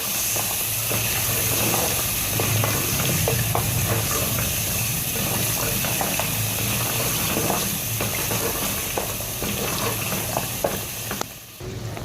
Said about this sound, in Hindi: इसको गोश्त के साथ भून लेंगे